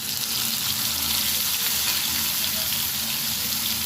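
Onion paste hits hot oil in a pan that has just been used to fry potatoes, giving a steady, close hiss of frying that runs unbroken and fairly loud throughout.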